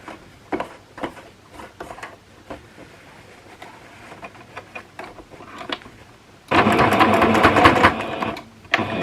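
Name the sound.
sewing machine stitching a fabric scrunchie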